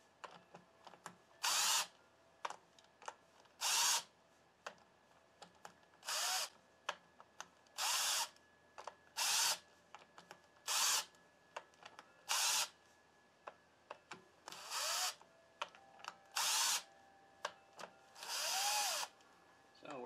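A power drill spins out clutch bolts on a Honda VTX 1800 motorcycle, a long series of short, loud whirring bursts separated by brief pauses, close by, with faint talk in between.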